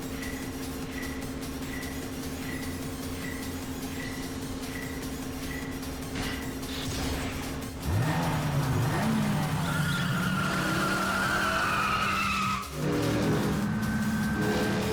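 Car racing in a Yakuza video game: a steady engine drone with regular ticking, then a rising rev and a long tire squeal that screeches on. A brief dip is followed by more engine roar and skidding.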